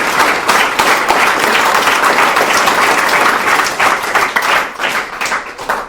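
Loud, dense audience clapping rings out close up and steady, then thins and fades toward the end.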